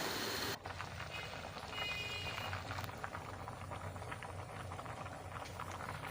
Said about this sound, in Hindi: ये देखिए, चावल उबल गए हैं